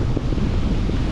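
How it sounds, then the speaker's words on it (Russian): Strong storm wind on the Turkish coast in December buffets the microphone with a loud, steady rumbling roar, no voices present. "Меня сдувает ветер."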